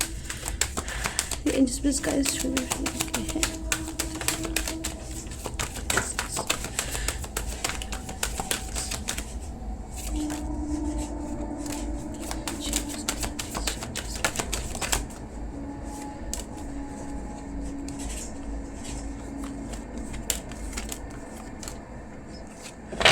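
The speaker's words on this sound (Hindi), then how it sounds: "तो चलिए कार्ड्स को शफल कर लेते हैं।" Tarot cards are shuffled close to the mic in a busy, continuous riffle of papery flicks and taps, with a voice talking softly over parts of it.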